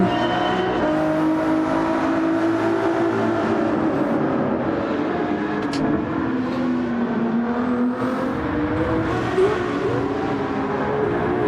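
A new Ferrari race car drives in Gran Turismo 7 onboard, a continuous loud engine drone rising and falling in pitch through gear changes, with light tire noise and no speech.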